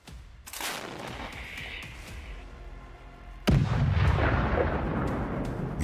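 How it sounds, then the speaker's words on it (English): Russian artillery opens fire on a stopped Bradley fighting vehicle, giving a rumbling roll of distant gunfire followed by a sudden loud blast at mid-clip and a sustained heavy roar after it, with no talk. "Russians report that the Bradley was stopped and artillery opens fire."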